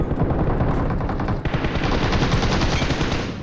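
Rapid automatic gunfire rattles in a mobile shooter game played on an iPad Mini 5, dense overlapping bursts of cover fire hammering loud and continuous, with a brief gap near the middle.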